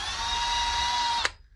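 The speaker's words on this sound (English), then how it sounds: "Drill in the center of our toothpicks." A small drill bit bores into toothpicks packed in a stripped screw hole, giving a steady high-pitched motor whine close up that stops abruptly after a little over a second.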